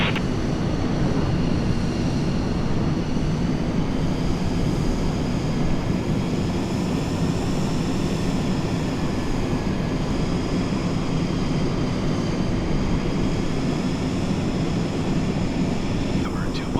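F-35B fighter jet taking off on a very windy day, a loud, continuous roar with a high whine riding on top that holds steady for the whole stretch.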